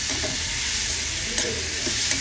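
Big tomatoes sautéing in a pan for a sundakkai kuzhambu, a steady close sizzle with occasional soft clicks of stirring, no voices.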